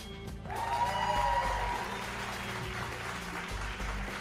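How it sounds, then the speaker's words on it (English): Applause for a woman finishing podcast class number 44, a steady wash of hand clapping that swells quickly and holds at moderate, slightly distant loudness. "Give her a hand clap, please."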